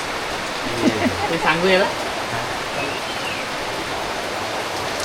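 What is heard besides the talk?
heavy rain falling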